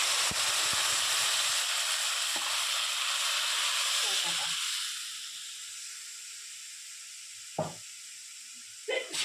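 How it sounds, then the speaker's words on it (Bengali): Lentils poured into frying spices: loud, steady sizzling hiss from a hot pan that dies down about halfway, leaving a quieter simmer broken by a few sharp clinks near the end. "এর মধ্যে এখন ডালটা ঢেলে দিচ্ছি"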